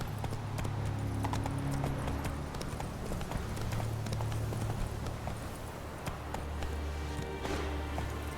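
Hooves of Roach, the horse in The Witcher 3, clip-clop steadily at a trot throughout, loud and close over a low ambient game drone, with no talk.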